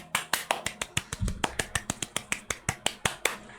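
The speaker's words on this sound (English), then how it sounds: "That's me clapping for you" A single person claps rapidly and evenly, roughly twenty sharp, close claps in a quick steady rhythm with no pauses, and no talking.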